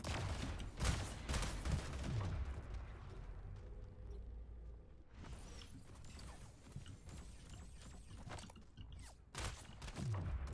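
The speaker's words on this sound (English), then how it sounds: "Oh, he's shooting through that portal." Rapid bursts of video game gunfire shot through a portal, dense and sustained with repeated loud volleys, a brief lull midway, then more shots.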